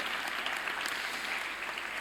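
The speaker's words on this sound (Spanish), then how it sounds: "Un aplauso a estos diáconos." Audience at a diocesan vocations congress applauding the deacons, a dense steady clapping from a crowd in a hall, filling the moment without pause.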